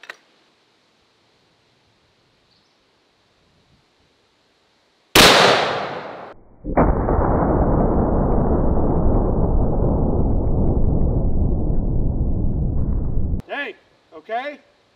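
A .700 Nitro Express double-barrel elephant rifle firing its left barrel, one huge close blast followed by a long rumbling roar that rolls on for several seconds before fading, with voices briefly afterward.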